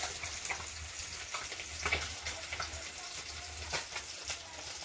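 Potato and cauliflower frying in a pan, a quiet close crackle of sizzling with a steady low hum and soft intermittent stirring taps, no talking.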